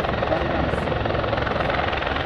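A helicopter flying at the Finland International Airshow 2014, a loud continuous rotor and engine roar with a rapid pulsing throb, filling the scene without pause.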